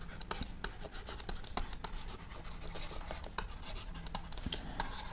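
Marker or pen scratching out a trigonometry solution during a math lesson, brisk strokes with sharp ticks and scrapes, close and clear with no voices.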